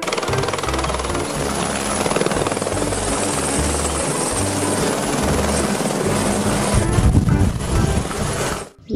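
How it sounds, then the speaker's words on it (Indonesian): A toy helicopter whirs steadily and loudly for the whole stretch, its pulsing rotor drone close by and unbroken, with no talk over it. "Lihat teman-teman, ada helikopter."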